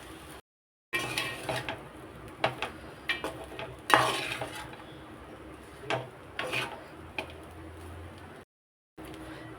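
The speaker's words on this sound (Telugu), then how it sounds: "ఈ విధంగా అన్నం మంచిగా కలుపుకోవాలి తాలింపు." Leftover rice being mixed into tempering in a pan, a spoon scraping and stirring in short irregular strokes with small clinks against the metal, close and fairly quiet.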